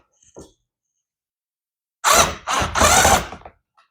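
A power driver runs a screw into a Yaheetech upholstered bed frame with headboard and storage: a faint click, then three quick whirring bursts close up, and silence before and after.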